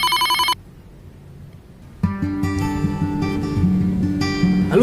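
A phone ringtone plays loudly and close by: a brief electronic tone, a short pause, then a bright, melodic ringtone tune that continues steadily to the end.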